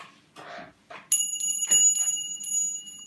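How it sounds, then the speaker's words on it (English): A small bell hanging in a room rings in bright, sustained metallic tones that shimmer and overlap, joined by a few soft knocks and rustles, fairly close and clear. "That bell I got hanging there is what I attached to her wrist before I left."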